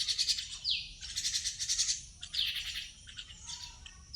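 A pet bird, one of several rescued after falling from a nest in a storm, calls in repeated bursts of bright chirps with quick downward-sliding notes. It is close by and clear, with short pauses between the phrases.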